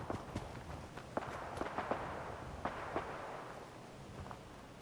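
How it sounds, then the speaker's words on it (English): Scattered gunfire in the Fallout 4 video game: sharp, distant pops spread unevenly over a steady rumble of background noise, some shots in quick clusters, none of them loud. "The gunfire's coming from this direction."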